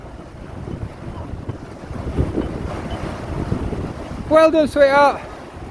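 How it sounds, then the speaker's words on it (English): Wind gusts buffet the microphone on a river near a canal lock as a storm approaches, a rough blustery rumble throughout, with a brief spoken phrase near the end. "this wind's suddenly picking up"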